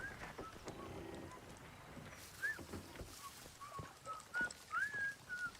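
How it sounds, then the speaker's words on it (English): A character whistles a short tune in the video game Atomfall, thin melodic notes drifting in and out over faint ambient game sound and quiet rustling, fairly soft and somewhat distant. "Who's the whistling guy up there?"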